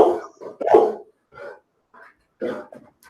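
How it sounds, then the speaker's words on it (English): A pet dog barks in several loud, close bursts with short gaps, reacting to someone at the door inside a home. "Sorry about my dog. There's somebody at the door."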